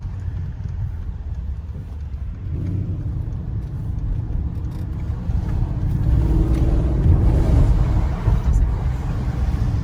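A Mercedes-AMG GLE 63 S idles with a low, steady engine rumble that deepens and grows a little louder partway through, with faint voices in the background.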